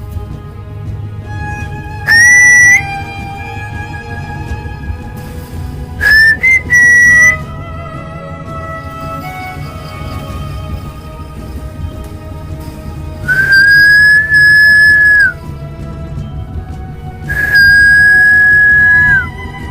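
Whistled notes ring out in short bursts during a ghost hunt inside a haunted train carriage. There are four of them, two brief and two held longer, over a steady low background hum.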